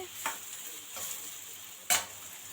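Onion pieces with green chillies sizzle steadily in a hot pan for egg fried rice, with a constant frying hiss broken by a few scraping stirs of a spoon, close and alone without voices.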